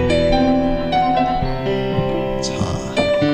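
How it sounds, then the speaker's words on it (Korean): A live university band plays the accompaniment to a song at a concert: sustained, layered instrumental chords and notes ring clearly with no singing, changing pitch every second or so. "지금 나오는 반주 들리시죠?"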